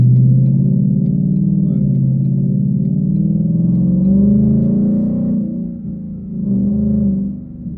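A 2021 Mustang GT fitted with a Flowmaster Outlaw exhaust and X pipe cruises at around 40 mph, its deep, loud rumble droning steadily, easing briefly and then swelling again.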